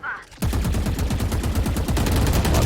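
Rapid automatic gunfire in the first-person shooter Valorant during a competitive esports match, a loud, steady stream of shots after a short lead-in, with commentary voices underneath.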